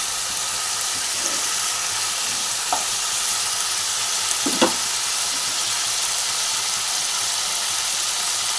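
Cauliflower and potatoes sauté together in a pan with a steady, even sizzle, broken by a few faint clinks and scrapes of the spatula, no voices.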